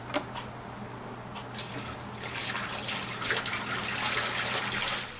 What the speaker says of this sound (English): now we're going to pour our dye into the Pump Up power sprayer